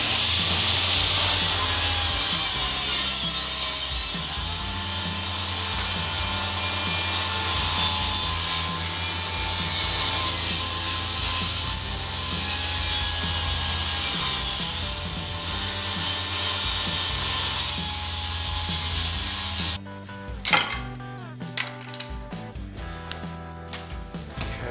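A table saw with its blade lowered cuts wood for beehive frames, a loud, steady whining rip lasting about twenty seconds before the blade spins down, followed by lighter clattering and bumps.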